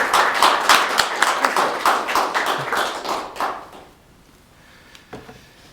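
Audience applause for a speaker arriving at a health care policy lecture, steady, fairly close clapping from a modest crowd that continues for several seconds, then thins out and stops, leaving a few scattered claps.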